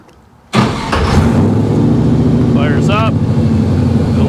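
A 1955 Chevy Nomad with a fuel-injected engine cranks and fires up abruptly, then settles into a loud, steady idle with a brief rev-like warble, close up.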